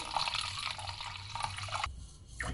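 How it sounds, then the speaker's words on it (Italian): Milk and water poured into a smooth cream mixture, a steady liquid pouring and splashing sound that runs throughout, close and moderately quiet. "posso aggiungere tutto il resto, tutto il latte, l'acqua mancante"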